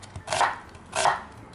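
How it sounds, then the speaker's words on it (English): A knife slices through an onion on a board for yakisoba noodles, two distinct crisp cuts about half a second apart, close and clear over quiet background. "Slice the onions."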